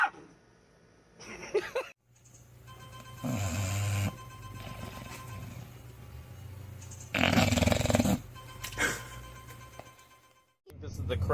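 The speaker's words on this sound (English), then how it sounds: "This is my dog named Goldie. I love her to death" A six-month-old dog snores and growls in low, rumbling bursts that swell and fade over several seconds, fairly quiet and close, with pauses between.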